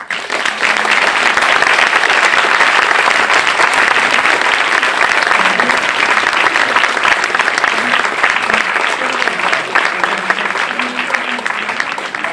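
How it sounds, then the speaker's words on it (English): A film festival audience gives sustained applause for Korean director Kim Soo-yong at a screening introduction, dense steady clapping that stays loud and even throughout. "let us give a good round of applause to a very fine"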